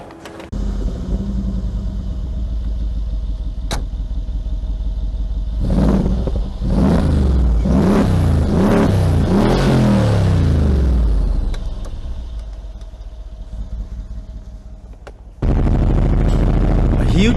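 The engine of a Mercedes-AMG G63 with a hand-built motor rumbles at idle, then revs hard in a series of loud, rising and falling bursts before settling back to a deep, steady rumble.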